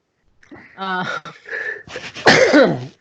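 A person gives a throaty, voiced wheeze and catch of breath, then a loud, close sneeze bursts out near the end.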